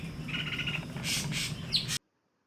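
Harsh, chattering jungle babbler calls burst out in a few rapid squawky phrases before the sound cuts off abruptly.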